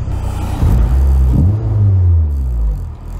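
A car engine runs loud and close with a deep rumbling idle, rising briefly as it is revved and settling into a steady low drone, cabin-level and dominant throughout.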